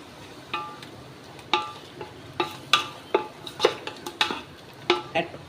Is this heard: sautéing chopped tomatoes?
yes